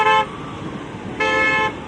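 Two sharp car horn honks sound a second apart amid road traffic, close and loud, with a low rumble of vehicles between them.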